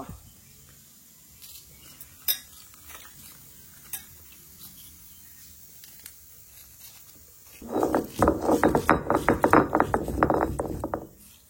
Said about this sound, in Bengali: আজকে দুটো আমি শুকনো লঙ্কা পিষে নেব।